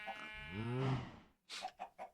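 Minecraft chickens cluck in a game farm, a drawn-out squawk followed by three short, quick clucks, faint and close with nothing else around.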